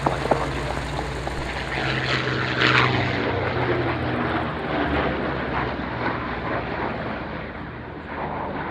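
A Hawker Fury propeller aircraft engine runs at ground idle at the Duxford Flying Legends airshow, a steady loud rumbling drone that continues throughout with slight swells, no talk over it.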